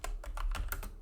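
Code is typed on a computer keyboard in a quick run of about six crisp, close keystrokes within one second.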